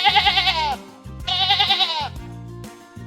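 Two drawn-out sheep bleats, each wavering and nasal, sound close and clear over a soft, steady musical backing, with a short pause between them.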